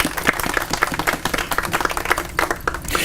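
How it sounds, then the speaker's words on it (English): Audience at an executive ball breaks into a round of applause, a loud, dense patter of many hands clapping with distinct sharp claps standing out, continuous from start to finish. "Please give them a big round of applause."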